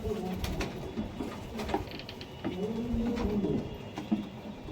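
Racing and Desi Giribaz pigeons coo in low, throaty phrases close by, several rolling calls one after another over a background hiss.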